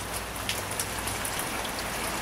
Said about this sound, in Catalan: Pluja igualada.